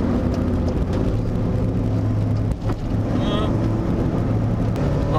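Car fitted with soft budget coilover suspension driving over a bumpy road, a constant loud low engine and road rumble from inside the cabin with a few thumps, and people talking over it.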